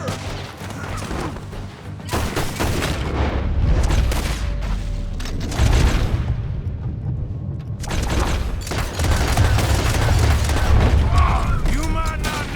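Gunfire booms in Red Dead Redemption 2, heavy shots and rattling volleys crashing loudly over several seconds, with shouting voices and clanking mechanisms mixed into the chaos.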